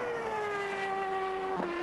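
CART race cars at speed on the Rio track in the 1996 season, a high engine whine holding steady then dropping in pitch as a car passes, with a second engine note joining near the end.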